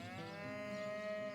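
A cow in Divinity: Original Sin lets out a single drawn-out moo, a clear tonal low from a game animal, alone and moderately quiet.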